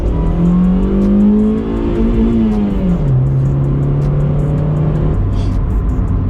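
A Honda Civic EJ6 engine revs hard and holds high, droning steadily near the limiter, the pitch wavering and dipping slightly before sustaining again, loud and close with no talking.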